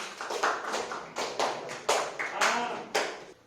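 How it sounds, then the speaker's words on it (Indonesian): Applause after a classroom group presentation in a teacher training session: a few people clapping in a short, uneven burst of close taps, with a little talk underneath. "kita beri aplaus untuk Ciputra"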